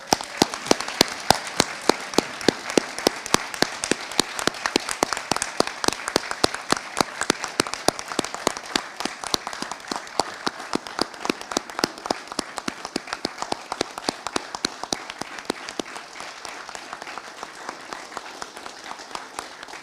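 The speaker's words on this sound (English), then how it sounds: "join me in another round of applause for the newest and most junior lieutenants in the United States Army" Sustained applause at an Army ROTC second lieutenant commissioning ceremony, dense and steady throughout, with individual sharp claps standing out and gradually thinning toward the end.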